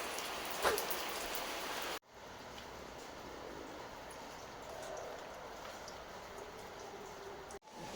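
Steady rain falling in a forest along a river trail, a dense continuous hiss of drops, broken by two brief dropouts.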